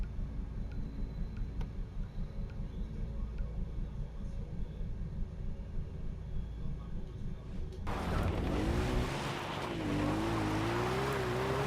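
Car driving in the video game Far Cry 4, a steady engine drone that shifts into a louder, wavering revving tone about two-thirds through, with faint talk in the background.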